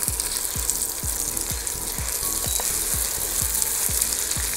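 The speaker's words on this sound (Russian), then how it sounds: "высыпаем прямо сюда гречку и обжариваем ее 5 минут, постоянно помешивая" Buckwheat groats frying in hot vegetable oil in a cast-iron pot, a steady close sizzle with regular scraping stirs of a utensil roughly every half second throughout.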